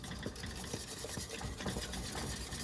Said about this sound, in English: I might actually get the whisk because I don't want to immersion blend those cranberries